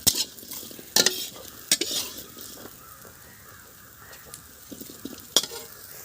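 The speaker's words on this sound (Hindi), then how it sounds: "हमने थोड़ी सी सरसों का तेल डाले और दोस्तों वो कुम्हलौरी को हम अच्छे से भून लिए" Kumhlauri frying in mustard oil in a kadhai, with a soft sizzle under several sharp metal stirring scrapes and clanks spaced irregularly, close and fairly loud.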